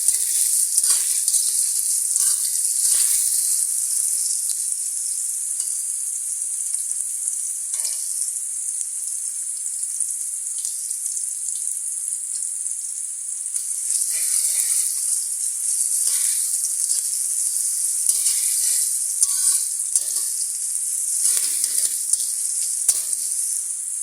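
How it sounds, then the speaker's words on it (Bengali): Sliced onions fry in oil until browning, giving a continuous close sizzle with intermittent scraping stir strokes and small crackles throughout, steady in level and free of speech. "পেঁয়াজগুলো আমি বাদামি রং করে ভেজে নেব।"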